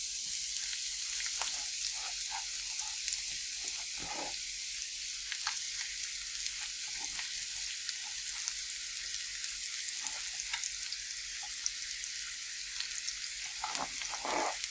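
Spinach and ginger fry in a pan with a soft, continuous sizzle and crackle, faint and steady throughout, with occasional small pops and no voices.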